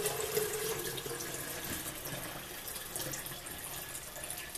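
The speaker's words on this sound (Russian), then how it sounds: "Заливаем воду в чайник" Tap water runs steadily into a smart electric kettle, a constant rushing splash heard close up and fairly quiet, with no talking.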